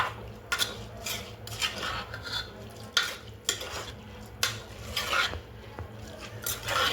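Prawn biryani masala with salt being stirred in a pressure cooker over a gas flame: repeated scraping, rasping spoon strokes against the metal pot with a faint sizzle underneath, close and steady, no talking.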